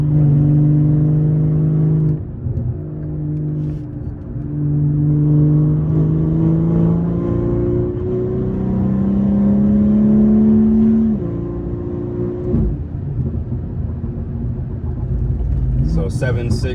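A BMW G30 540i tuned to 530 hp pulls hard along the winding Big Tujunga road, its engine note climbing steadily through the gears with brief dips at shifts, loud and close from inside the cabin.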